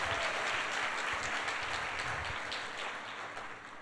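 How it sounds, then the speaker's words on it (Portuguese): A church congregation claps during a worship service, a continuous dense round of applause that gently tapers in loudness over a few seconds. "dá um aplauso ao Senhor"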